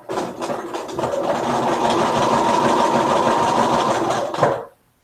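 A sewing machine stitches a narrow, long-length zigzag for a needle book, running at a steady, fast, close whir for several seconds before stopping abruptly.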